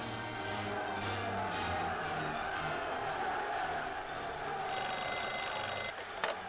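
A telephone rings in a film scene, a bright repeated bell tone at moderate level over background room noise, breaking off near the end.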